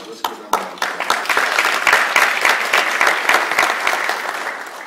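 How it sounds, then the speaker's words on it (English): A chamber of commerce luncheon audience breaks into loud, dense applause that swells quickly after a few opening claps and holds steady to the end. "So let's give them a round of applause."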